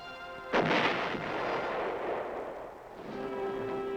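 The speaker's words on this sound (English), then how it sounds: "giant 8-inch howitzers reinforced the air mobile batteries" A single heavy boom from an 8-inch howitzer firing, a sharp blast followed by a long rolling echo that fades over several seconds.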